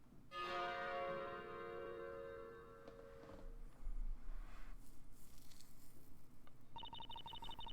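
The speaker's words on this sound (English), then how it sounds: "I just really want to ring that bell." A bell rings in the Professor Layton vs Phoenix Wright video game: one bright, resonant strike fading over a few seconds, followed by rumbling game sounds and a later repeating chime-like tone.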